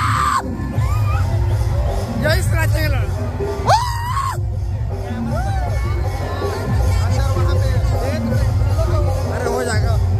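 A dense crowd at a Dussehra festival orchestra show yells, whoops and cheers in loud bursts over a constant babble of voices and low rumbling music, with a person talking nearby throughout.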